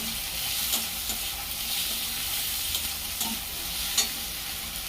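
Masala sizzling in a pan as it is fried and stirred with a splash of water for an egg and soybean curry, a steady hiss with soft scraping stirs and occasional louder taps of the spoon.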